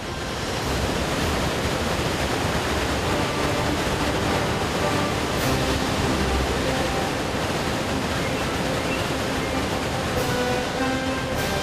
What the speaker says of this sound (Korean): 그 엄청난 물소리와 물보라에 소름이 돋을 정도입니다